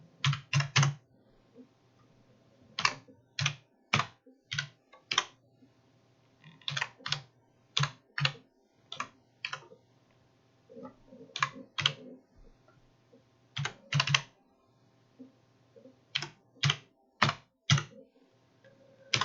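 Fingers type a formula on a computer keyboard into an Excel or Google Sheets spreadsheet. Close, crisp keystrokes fall in quick bursts separated by short pauses, with no talking.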